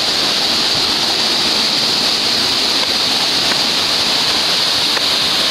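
Broad waterfall, the second of a pair of falls, pours in a steady, dense roar of rushing water that holds evenly throughout with no voices over it.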